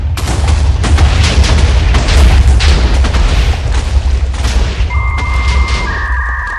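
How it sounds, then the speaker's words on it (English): A huge chain of TNT explosions in Minecraft, dense overlapping booms rumbling loudly for several seconds before tapering off, followed by a couple of steady tonal game chimes near the end. "now we're gonna put down a ton of TNT, and now we explode it and run away"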